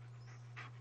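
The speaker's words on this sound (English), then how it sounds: "what are you barking about?" Dog panting in the video game Blair Witch, a short breathy burst of quick huffs over a steady low hum, with no clear bark.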